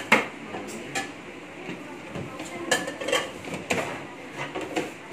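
A spoon clinks and scrapes irregularly against a bowl while a mango float mixture is stirred, light taps spaced through the stretch with faint talk underneath.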